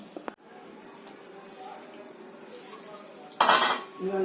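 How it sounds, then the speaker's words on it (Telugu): Pieces of eggplant and broad bean are dropped into hot oil in a home kitchen: a few light utensil clinks, then a sudden loud sizzling burst that settles into softer frying. "ఇప్పుడు ఆయిల్లో కాగిన ఆయిల్లో నేను చిక్కుడుకాయ వంకాయ ముక్కలు వేస్తున్నాను చూడండి"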